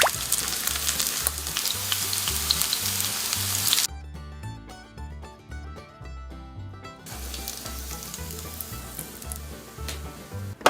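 Nori-wrapped corn frying in hot oil gives a steady, loud crackling sizzle, briefly quieter midway before rising again, with no voices.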